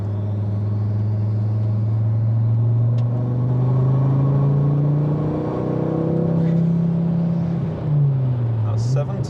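A Revo Stage 2 tuned Ford Focus ST accelerates hard, its engine droning loud and rising steadily in pitch from inside the cabin before easing off near the end.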